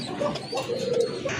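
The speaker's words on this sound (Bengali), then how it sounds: "মাশাল্লাহ আরেক জোড়া কবুতর মাশাল্লাহ" Pigeons sold in pairs coo close by in soft, low, rolling calls, repeated several times in quick succession over a faint background hiss.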